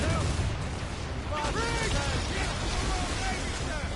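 Ship cannons firing during a naval battle in Assassin's Creed Rogue, heavy booms over a constant loud rumble of battle noise, with shouted voices and musical tones layered on top.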